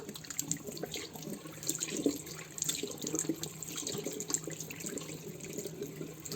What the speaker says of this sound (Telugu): నేను కాసేపు అయిన తర్వాత అయితే ఫేస్ వాష్ చేస్తున్నాను